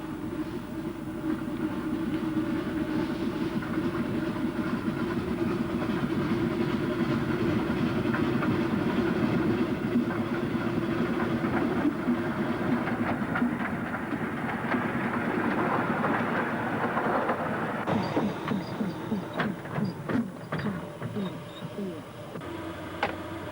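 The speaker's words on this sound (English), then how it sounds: "the little loco puffs its way up to the switchback" A small locomotive rumbles steadily along the rails of a bush mill railway, wheels clacking rhythmically, with a voice talking over the continuous running noise.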